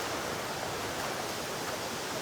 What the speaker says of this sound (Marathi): कोंढाणा केव्सच्या वरून वॉटरफॉल. म्हणजे पाणी एवढा जोरात पडतोय ना.